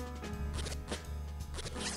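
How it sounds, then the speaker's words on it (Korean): A zipper in the Antistress game is pulled open in a few rapid, raspy zips, close and continuous over a steady background. "뭐 딱 봐도 지퍼 같은데"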